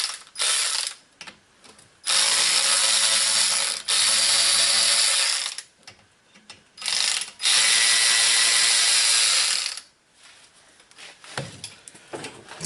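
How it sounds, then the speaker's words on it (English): A ratchet loosens brake caliper bolts on a 2011 Chevy Volt, with several long, loud bursts of rapid clicking separated by short pauses and handling noises. "then we'll take these two bolts out that hold the caliper on"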